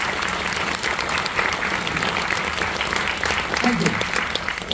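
Engineering college students at an induction session clap loudly in a sustained, crowded roar of applause, and a voice briefly speaks over it.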